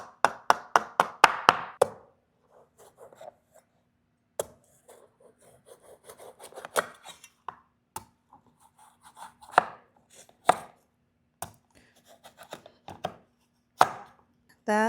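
Knife chopping squash into wedges on a cutting board: a fast run of about eight sharp, close chops, then sparser scattered knocks, scrapes and single chops through the rest of the stretch.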